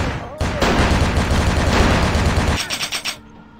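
Sustained burst of gunfire in the video game Vampire: The Masquerade – Bloodlines, loud and dense for about two seconds, then a few separate trailing shots before it cuts off.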